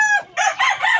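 A rooster crows loudly and close by in two quick calls, with chickens clucking, among backyard poultry.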